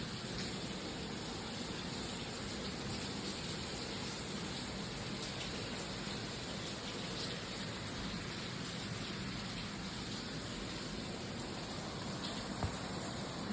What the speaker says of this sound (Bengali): আজকে সারাদিন বৃষ্টি।